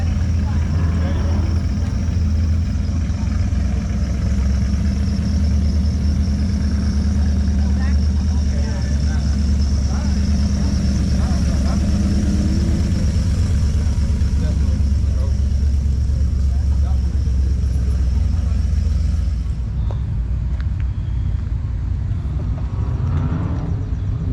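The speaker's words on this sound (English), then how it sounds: "That is the smoothest run and blown engine I've ever seen." Steady, loud low rumble of a classic show car's blown engine idling smoothly outdoors at a car show and swap meet in Columbus, Ohio, continuous for the whole stretch with crowd noise around it.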